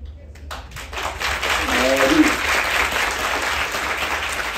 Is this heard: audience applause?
yes